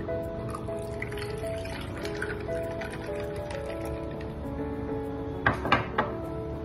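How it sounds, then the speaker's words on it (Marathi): Cold water poured into a vessel of sherbet sweetened with Gudi Padwa gathi, a steady close liquid fill with faint dripping and a few brighter splashes near the end. "त्याच्यात मग गार पाणी घालायचं आपल्याला"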